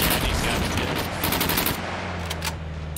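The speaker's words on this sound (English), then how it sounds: "Nice strafing run." Rapid aircraft strafing gunfire in a video game, a dense continuous roar of automatic fire that thins out toward the end, loud and close.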